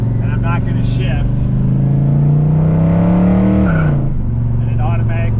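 A 1979 Pontiac Firebird engine revving in first gear, a loud close roar whose pitch climbs steadily for several seconds and then drops back to idle, with an engine drone throughout.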